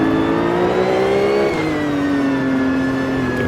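Maures EGT1 race car in Assetto Corsa at the Nürburgring GP, its engine revving hard with a bright, rising whine, then dropping in pitch at a gear change before climbing again, loud and close.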